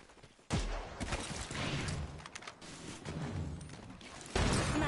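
Enemy gunfire in an arena shooter video game crackles in dense, continuous bursts, loud and close, with a heavy impact at the start and another at the end.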